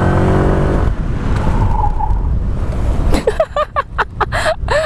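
A Honda Vario scooter's tire skids under hard rear disc braking, with a loud, close, continuous scraping roar and a rising squeal, then choppy bursts of engine and tire noise as it releases.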